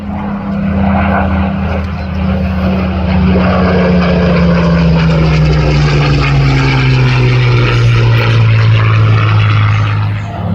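A Spitfire Mark 5C, the tropicalised version with a large Vokes filter under the nose, flies past at an air display with a loud, sustained propeller-engine drone that slowly falls in pitch as it passes, with faint commentary underneath.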